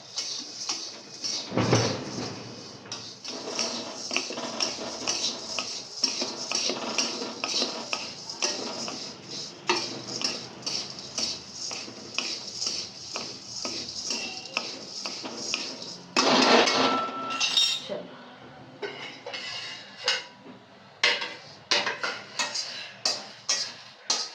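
Vermicelli being roasted in a pan and stirred with two spoons: repeated metallic clinks and scrapes of spoons against the pan come in uneven bursts, close up, with occasional talking in between.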